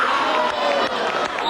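Fans at a school football match for the Prometna šola Maribor team fill the air with a dense, loud wash of crowd cheering and shouting, continuous and close, with voices blending throughout.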